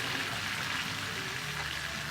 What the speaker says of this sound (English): Everybody hear that sizzle?